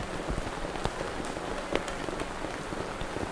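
Steady rain pours down on an outdoor ceremony, a dense, even hiss of drops on surfaces with occasional louder splats, no voices heard.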